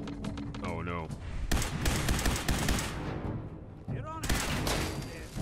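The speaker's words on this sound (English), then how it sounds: "we're gonna be doing some laser blasting for a little bit here" Laser rifle shots in Fallout 4, a rapid string of sharp zapping blasts amid combat noise, with a voice talking over parts of it.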